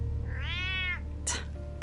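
A cat in Batman: The Telltale Series video game lets out one drawn-out, wavering meow, followed by a short hiss-like burst over a low steady game hum, with no talk.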